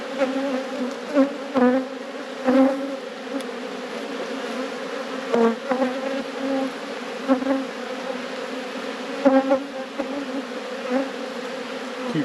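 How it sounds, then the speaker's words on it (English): Honey bees buzz steadily around an open hive frame holding eggs, larvae, honey and drone brood, a dense close drone of many insects with occasional louder passes flying near, and no voices. "Cute bees."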